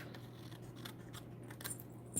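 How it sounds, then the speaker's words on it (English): Scissors trim excess patterned paper for a handmade card, a series of quiet, close snips and rustles ending in a slightly louder cut. "let's go ahead and grab my scissors. And I'm gonna go ahead and just trim that excess off."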